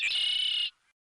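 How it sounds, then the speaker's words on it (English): One short, high, shrill bird call, fairly close and clear, fading out quickly into silence. "Whereas the chirping of a bird is the example of high pitch."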